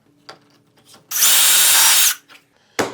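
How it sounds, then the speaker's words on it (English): A power drill bores a hole through wood using a dowel jig, one loud continuous burst of about a second, preceded and followed by quiet handling knocks and a sharp clatter at the end. "drill the other hole"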